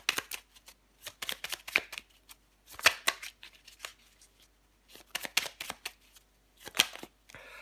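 Tarot cards being shuffled and drawn, close and quiet, in irregular bursts of crisp riffling and slapping with short pauses between, no talking.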